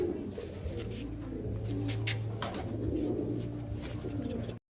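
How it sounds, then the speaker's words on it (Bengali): A breeding pair of pigeons coos steadily in a shop selling birds and animal feed, with low, rolling calls repeating close by and soft chirps and rustles in the background. "এই দেখুন এই পায়রা দুটো, এই পেয়ারটা, এটা ব্রিডিং পেয়ার আছে।"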